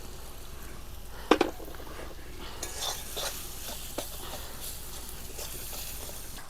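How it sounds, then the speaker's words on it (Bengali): Spices sizzle softly in a pan of hot oil while a utensil stirs and scrapes, with a few sharp clinks against the metal; the frying stays fairly quiet and close, and no one speaks. "দিয়ে ভালোভাবে মশলাটি ভেজে নেব মশলা যাতে ভালোভাবে ভাজা হয়"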